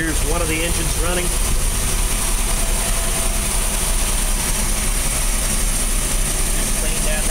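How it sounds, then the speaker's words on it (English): One of a fire boat's engines idles below deck with a continuous, even rumble and a faint mechanical clatter. It sounds close and steady, with a brief voice-like sound near the start. "here's one of the engines running."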